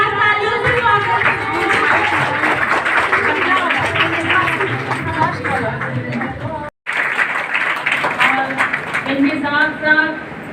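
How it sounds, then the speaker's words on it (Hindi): Loud, sustained applause from a large crowd at a Brahma Kumaris annual festival in Lalganj, Sasaram, welcoming the branch sister, with chatter and voices mixed into the clapping and a brief dropout midway. "जोरदार तालियों से स्वागत"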